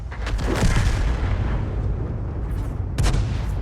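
A Hummel self-propelled artillery gun fires in a tank video game. One deep, heavy boom rolls out near the start, and a second sharper blast follows about three seconds later.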